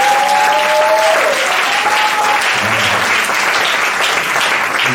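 A church congregation at a Sunday service bursts into sustained, loud applause that fills the room evenly, with a brief sustained tone near the start and some low rumble partway through.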